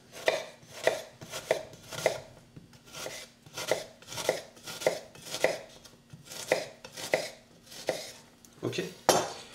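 A knife finely slices shallots on a cutting board in a steady, rhythmic series of close, crisp chops with a faint background hum.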